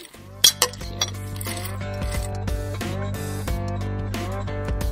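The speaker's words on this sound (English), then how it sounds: "All right, clink it up." Glasses clink together in a toast, two or three bright chimes near the start, then continuing clinking and rattling over a sustained musical tone.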